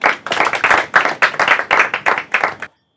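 Applause from an audience at a Marathi quiz show for team Panaji, a short, lively round of clapping that stops abruptly after about two and a half seconds.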